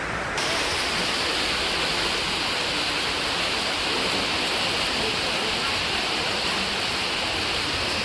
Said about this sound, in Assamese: পুৰা ডাঙৰকৈ বৰষুণ আহি গ'ল